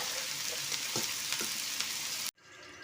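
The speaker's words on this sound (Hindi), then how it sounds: "उसमें मैं अपनी गोभी को तल रही हूँ" Steady loud sizzle of cauliflower pieces frying in hot oil, with a few soft stirring scrapes, then the sound cuts sharply to quieter sizzling.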